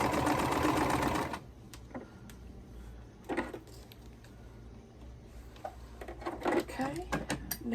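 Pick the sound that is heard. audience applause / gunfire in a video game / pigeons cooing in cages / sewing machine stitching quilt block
sewing machine stitching quilt block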